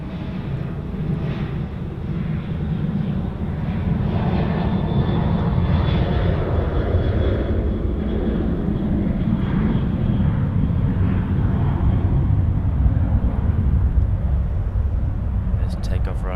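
An airliner takes off at Sydney Airport, its engines rising into a loud, sustained low roar that holds steady for the whole stretch, close and powerful.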